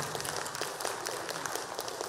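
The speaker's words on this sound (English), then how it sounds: "big applause for the volunteers of" Audience applause for volunteers at a tech conference keynote fireside chat, a dense, steady burst of clapping from a large crowd filling the room.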